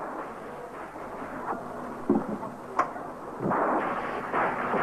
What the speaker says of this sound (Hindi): तूफान तो बहुत तेज है।